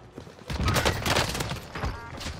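Dense, sustained gunfire from a shooter video game match on the Caldera map: rapid overlapping shots and bursts fill the moment, loud and close, with little pause between volleys.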